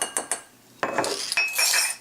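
A spoon clinks and scrapes in a bowl while olive oil is stirred into chickpea and rice flour, starting with a few sharp taps and then a brisk, gritty stirring rasp.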